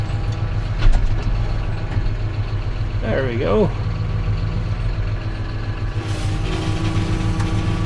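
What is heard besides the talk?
tractor engine towing a heavy trailer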